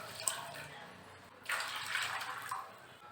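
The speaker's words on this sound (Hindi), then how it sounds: "अभी इसमें 2 ग्लास पानी ऐड कर लेना है" Water poured from a glass into a kadhai holding green peas for boiling: two broad splashing pours, one at the start and a louder one midway that tails off.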